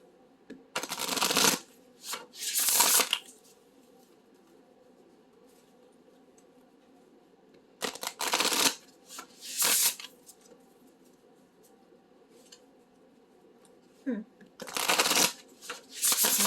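A deck of spellcasting oracle cards is shuffled in three separate bursts of crisp riffling, close and fairly loud, with quiet gaps between them.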